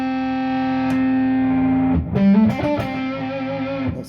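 Electric guitar played through a PTD Rotobone fuzz pedal with a germanium transistor: a sustained distorted chord rings out for two seconds, then a run of fuzzy, harmonically rich notes follows, loud and close.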